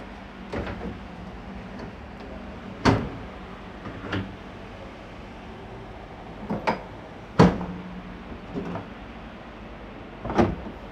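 Emergency side door of a horse trailer being worked open, a series of sharp metallic clunks and latch bangs spaced irregularly over several seconds against a low, steady background, with no talking.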